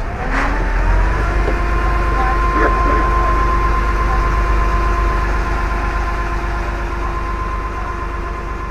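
A ferry's engine drones steadily at a low pitch, a constant heavy rumble filling the whole stretch with a faint tonal hum riding on top and no clear changes in speed.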